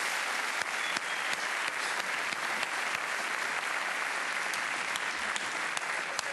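Sustained audience applause fills a comedy show hall, dense and steady clapping from a large crowd with scattered sharper claps throughout, no voices on top.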